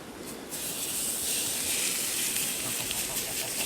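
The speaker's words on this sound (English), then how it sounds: "That sizzle tells me so." A ribeye steak hits a hot oiled pan with a steady bright sizzle, a continuous hissing crackle that holds at an even level with no voices.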